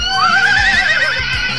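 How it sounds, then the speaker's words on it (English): A horse of the King's Troop, Royal Horse Artillery, lets out a loud, close whinny, a long wavering neigh that rises and trembles across the whole moment, with faint hoof thuds beneath it. "You've got it! Horses!"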